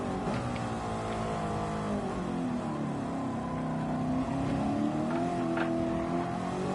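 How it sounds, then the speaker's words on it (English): Race car engine from a racing video game, a steady sustained drone with shifting harmonic pitch as revs rise and fall, close and continuous throughout with no talk. "The sound of the engine."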